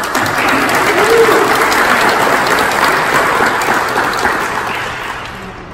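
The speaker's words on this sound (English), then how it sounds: "Round of applause for" Loud, sustained applause from a crowd at an architecture alumni award ceremony fills the whole stretch, slowly fading toward the end.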